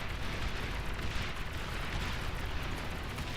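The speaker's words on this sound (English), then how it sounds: "Explosion. I just wrecked this." Video game explosion, a sustained dense rumbling roar filling the whole clip at steady loudness with no distinct single blast, no talk.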